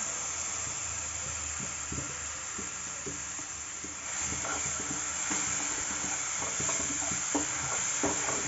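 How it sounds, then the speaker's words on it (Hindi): Onion paste hits a hot pan for a raw banana kofta curry, a steady close sizzle and hiss that swells after a few seconds, broken by scattered stirring scrapes and soft clinks. "इसमें अब इसमें जो है प्याज के पेस्ट को डाल देते हैं"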